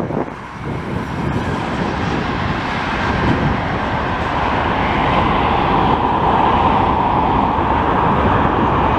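Canadian National freight train rolling past beside Montreal's Highway 20, a steady, loud broadband rumble of wheels and cars that holds without pause and swells slightly toward the end, with road traffic mixed in.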